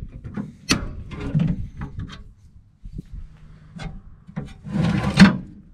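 A tool works open the battery box on a Unimog U1300L truck, giving a few close, separate clunks and scrapes with short gaps between them.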